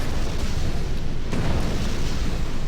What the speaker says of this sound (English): that was probably nuclear explosions doing the killing there